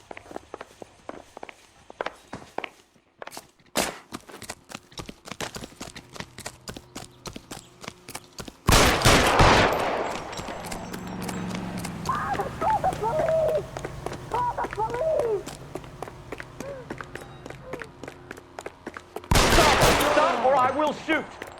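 L.A. Noire gameplay with sharp gunshots and clicks scattered across the scene, two heavy loud bursts standing out, alongside footsteps and dialogue from game characters in between.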